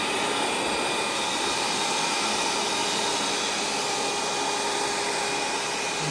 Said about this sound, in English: There's the motor turning right there.